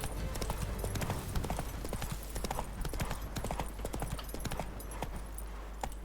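A horse's hooves clip-clop at a steady brisk pace in The Witcher 3 video game, a continuous rhythmic stream of close hoofbeats over a low background hum, with only a faint trace of voice.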